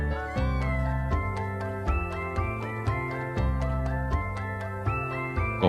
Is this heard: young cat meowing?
yes